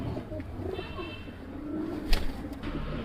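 Lakha Gojra pigeon cooing in soft, low, repeated murmurs against steady background noise, with a faint voice in the distance.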